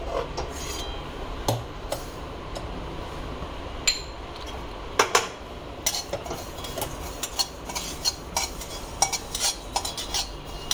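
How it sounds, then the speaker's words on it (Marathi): Poppy seeds dry-roasting in a pan, a spoon scraping and stirring steadily with light metallic clinks and a fine gritty rustle, close and continuous. "आता ह्याच्यात आपल्याला खसखस भाजून घ्यायची आहे"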